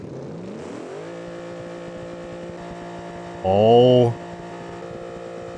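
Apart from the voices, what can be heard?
SUV engine running and accelerating in BeamNG.drive video game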